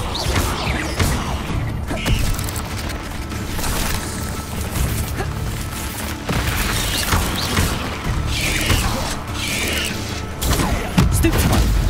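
Spell combat in Hogwarts Legacy with an Incendio fire spell, repeated whooshing bursts, cracks and impacts spread across a busy, loud battle mix with brief voice snippets.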